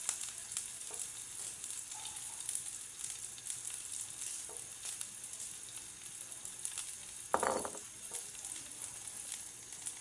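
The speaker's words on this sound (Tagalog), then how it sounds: "Gigisa muna ako ng sibuyas bawang." Chopped onion and garlic sizzle steadily in a hot oiled pan, a continuous crackling hiss with a brief stir or clink partway through.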